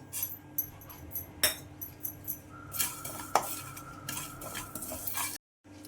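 Poppy seeds and black sesame roasting in a pan, quiet crackling with intermittent spoon scrapes and taps against the metal, ending in an abrupt silence.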